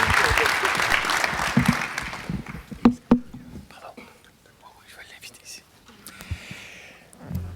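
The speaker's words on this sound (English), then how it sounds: "a round of applause for the moderator" Applause for the moderator at the closing plenary of an ICAO aviation security conference: a dense wash of clapping that fades away within the first few seconds, leaving quiet room noise and soft murmuring.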